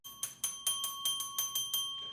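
A small bell struck about ten times in a quick, fairly steady rhythm, each bright ring overlapping the next's decay, heard close and alone without any talk.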